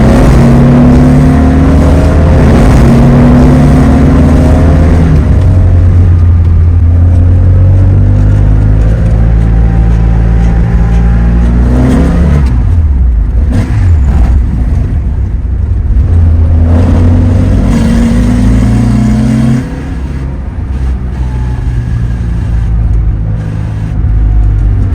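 A Porsche 912 with a 180hp flat-four engine rumbles deep and loud, repeatedly revving up and rising in pitch as it accelerates, with a throaty burbling tone throughout.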